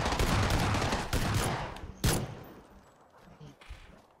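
Burst of rapid gunfire from a PUBG match, a dense volley of shots up front with a sharp crack near the two-second mark, then tapering off into scattered fainter reports.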